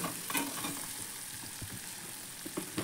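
Potatoes and dried shrimp with turmeric sizzle in a pan while being stirred for a Malvani-style bhaji, with a steady close hiss broken by spoon scrapes and clatter.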